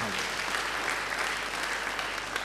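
A church congregation claps steadily for a couple of seconds, a close, even roar of many hands with faint low hum beneath it.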